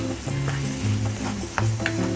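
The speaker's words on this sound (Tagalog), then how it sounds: "hahaluin lang natin siya hanggang sa maluto" Beef empanada filling with potatoes and raisins sizzles in a pan as it is stirred until cooked, a close, steady frying hiss broken by scraping and clicking from the spoon.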